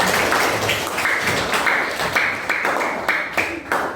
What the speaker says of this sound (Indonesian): tepuk tangan dari Adil